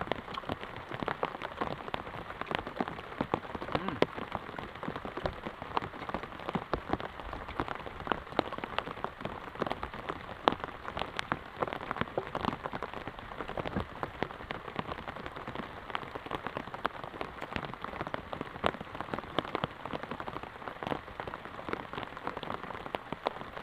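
Heavy rain falls steadily on surfaces around an outdoor pond-side hut, a dense, even patter that continues for the whole stretch with no voices.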